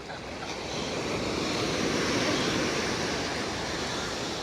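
Strong ocean waves break on El Nido beach, a loud, continuous roar of surf that builds in the first second and then rolls on steadily, with wind in the background.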